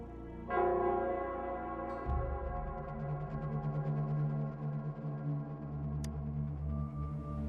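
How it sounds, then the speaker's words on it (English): Nell Squares bell in Wuthering Waves rings out in deep, sustained tolls, its long humming tones swelling over a low drone and lingering throughout. "it's the Nell Squares bell."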